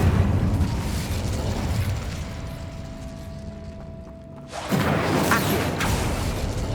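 In the game Hogwarts Legacy, the Incendio fire spell goes off with a dense, rumbling whoosh of flame, a steady roar that dips briefly and then flares up again into a louder burst.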